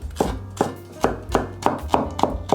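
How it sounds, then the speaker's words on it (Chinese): A kitchen knife cuts trimmed celery stalks into strips on a cutting board, about eight crisp, evenly spaced chops close up with no talking. "这里先切条。"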